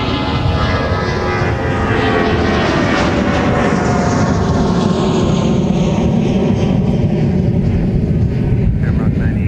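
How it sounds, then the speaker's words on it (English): An Aer Lingus airliner bound for Dublin takes off at Minneapolis–St. Paul airport, a loud, sustained engine roar that swells and shifts as it climbs away, with wind buffeting the microphone. "there goes Shamrock. It's Aer Lingus off to Dublin"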